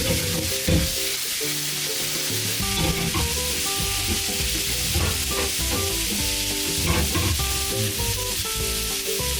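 Mushroom risotto made with local rice and a splash of local alcohol sizzles steadily in the pan as the liquid cooks off, a loud continuous frying hiss with stirring that runs the whole time.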